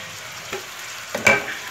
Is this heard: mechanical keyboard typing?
no